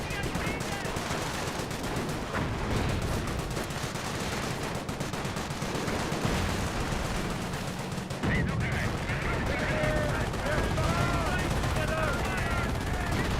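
Dense battle gunfire from a Company of Heroes strategy game, with flame engineers and grenadiers firing away; rapid overlapping rifle and machine-gun bursts form a continuous loud clatter over a rumbling low background, with a voice faintly underneath.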